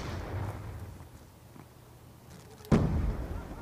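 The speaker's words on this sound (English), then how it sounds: "there's stuff exploding over here" A deep explosion bursts suddenly in Call of Duty Black Ops 2, a loud boom with a rumbling tail following quieter background battle noise.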